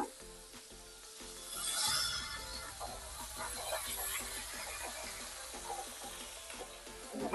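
Grated garlic and ginger hit hot oil with bay leaf and white cumin for an egg curry with potato and cauliflower, giving a steady close sizzle that swells early, then a continuous crackling fry with light stirring.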